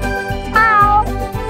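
A cartoon cat meows in the GameCube SpongeBob video game, a short series of loud, close, whiny mews with a rising and falling pitch in the middle.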